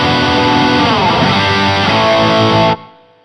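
Heavily distorted electric guitar chords through an MSG Guitars Twin Unicorn dual-channel distortion pedal ring out loud and sustained for nearly three seconds, then cut off abruptly into a fading tail.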